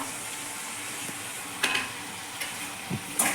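Potatoes and prawn thokku with salt being stirred in a pan, giving a faint steady sizzle with a few soft scraping clinks of the spoon scattered through.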